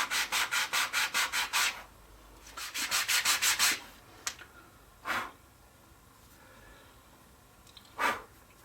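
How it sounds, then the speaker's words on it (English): Hand sanding a 45-degree chamfer on a wooden toy road grader part on a flat surface: quick bursts of rhythmic rasping strokes, about seven then six in a row, followed by a few single slower rubs, close and clear. "if I sand up to that line, I will get that 45-degree chamfer"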